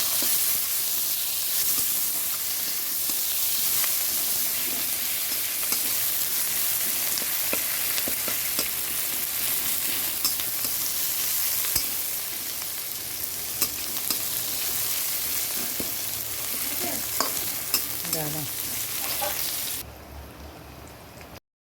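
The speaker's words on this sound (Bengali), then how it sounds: "এর মধ্যে পেঁয়াজ দিয়ে দিচ্ছি পেঁয়াজটা দিয়ে দিলাম" Onion frying in hot oil with cumin seeds, dried red chilli and bay leaf gives a steady, dense sizzle with occasional clicks of a utensil, close by, then drops to a quieter hiss near the end.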